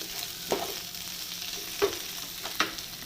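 Kerala-style liver fry sizzling steadily in a pan, with three distinct scraping stirs at intervals over the constant close frying hiss, no talk.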